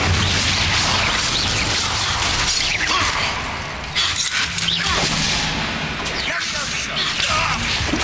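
Confringo and Incendio spells being cast in Hogwarts Legacy, loud fiery blasts and crashing bursts layered over dense game noise, with a voice shouting across much of it.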